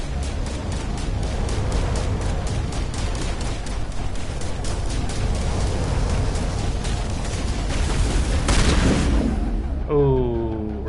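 Incendiary-ammo gunfire in the Mass Effect shooter: dense, continuous rapid shots and impacts over a loud rumbling combat bed, swelling near the end before a rising electronic tone takes over.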